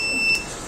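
An alert buzzer on an IoT-based railway track visual defect detection system gives a single short electronic beep, a steady high tone lasting a fraction of a second over a faint background hiss.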